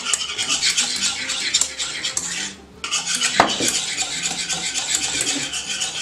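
A utensil stirs a strawberry mixture with dissolved gelatin sheets in a bowl, making a steady close scraping and clinking that pauses briefly partway through before resuming.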